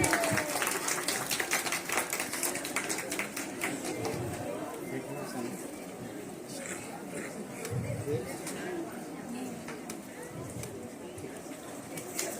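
A crowd claps at a retirement ceremony for a language teacher after a shawl presentation. The sustained applause runs under ongoing chatter and talk.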